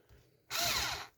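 A power drill with a metal bit bites into a thin aluminium drink can, a single loud whining burst of about half a second after near silence, then quiet again.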